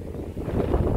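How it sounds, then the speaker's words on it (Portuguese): Strong wind buffets the microphone outdoors, a dense low rumble that swells and gusts briefly with no voices over it. "Tá uma ventania aqui"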